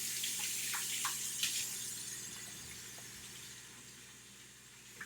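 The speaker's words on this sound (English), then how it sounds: "So when I'm done with that, I'm going to need to wash my hands." Water runs from a kitchen tap as hands are washed free of flour and butter while making chocolate chip scones. The flow is a soft, steady trickle with a few small splashes, quiet and fairly close.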